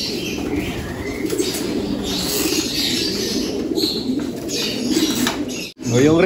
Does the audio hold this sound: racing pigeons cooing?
yes